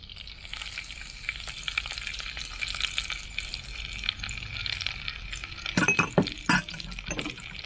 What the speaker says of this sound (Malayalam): നമ്മൾ എടുത്ത് വെച്ചാണ് ഇഞ്ചി, പച്ചമുളക്, കറിവേപ്പില ഇട്ട് കൊടുക്കുക